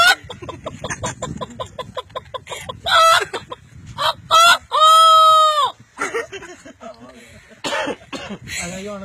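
A voice imitates a rooster crowing with a long, rising and falling cock-a-doodle call, set among chatty talk, a short clucking imitation and a cough.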